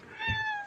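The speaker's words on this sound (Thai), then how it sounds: "ถ้านั่งปุ๊บเหมียวก็มาหาด้วยเลย" A cat gives one short, clear meow close by at a temple in Chae Hom, Lampang, where pet rabbits are kept.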